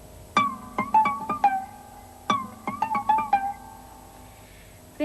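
A classical guitar imitates a fish eagle's cry with sharp plucked attacks that slide and bend downward, two bursts of several ringing, falling notes separated by a pause, close and clean with no talking.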